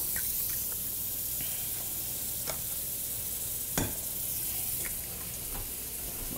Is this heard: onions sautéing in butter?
yes